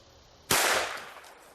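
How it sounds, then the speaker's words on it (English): A single gunshot is fired at a solid padlock, giving one sharp, loud crack followed by a short decaying echo. "I'll shoot a little bit higher."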